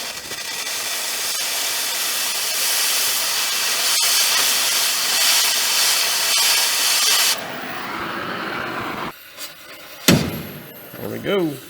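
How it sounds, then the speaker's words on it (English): A gas torch hisses loudly and steadily while heating a bolt directly below the fuel tank of a 1964 Jeep CJ5, close up, then cuts off, followed by a few clanks and knocks. "We are currently torching a bolt directly below the fuel tank."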